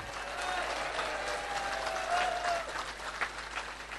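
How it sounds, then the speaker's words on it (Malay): Sustained crowd applause at a Pakatan Harapan political rally in Muar, Johor, a dense, steady clapping roar for the full length with cheers rising near the middle, no speech over it. "Tepukan gemuruh pada DAP."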